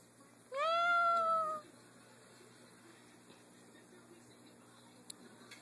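A single clear, drawn-out cat meow, close and fairly loud, followed by quiet room background.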